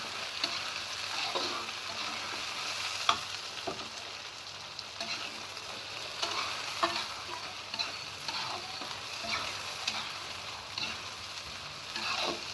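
Snake gourd being stirred and fried in a pan for a thin village-style curry gives a continuous soft sizzle, broken by light scraping strokes of the spoon, with no talking.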